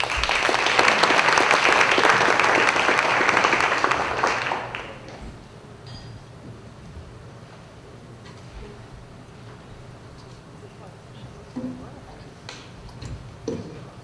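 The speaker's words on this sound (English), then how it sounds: "Let's give them a round of applause." An audience at a community entertainment event gives a round of applause, loud and dense for about four seconds before fading into quiet room noise with a few faint knocks.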